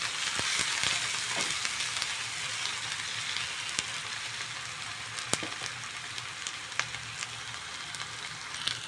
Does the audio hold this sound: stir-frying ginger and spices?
yes